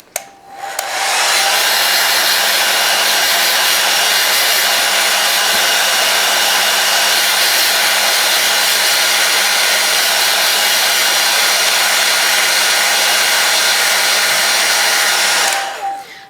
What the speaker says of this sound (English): I like to just hit it with my blow dryer for a second.